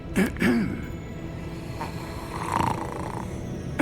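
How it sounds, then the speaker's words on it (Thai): Snoring from a sleeping character in Hogwarts Legacy, a few low rasping breaths near the start and again later, moderately close over a soft steady game ambience. "มีคนนอนหลับอยู่เลยมีคนกรนอยู่"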